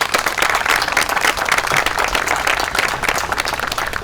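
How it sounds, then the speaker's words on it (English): Crowd applause at the grand opening of the Pirone Park playground in Ayer, a dense, steady clapping that holds at an even loudness for the full stretch without pause. "I'd like to give a round of applause for your service and leadership."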